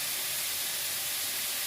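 Sprouts sautéing with turmeric in a pan give a steady, soft sizzling hiss throughout, fairly faint and uninterrupted, with no talking.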